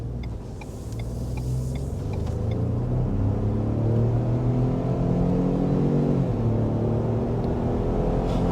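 A 2023 Ford F-150 Tremor with a V-8 pulling hard from a launch, its deep rumble rising steadily in pitch through the gears, loud and continuous with a brief dip at a shift.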